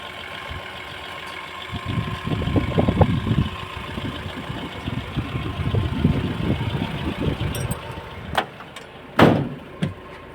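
A passenger van's engine idling nearby with a low, uneven rumble, followed by a couple of sharp knocks like a door or body panel near the end; no talking.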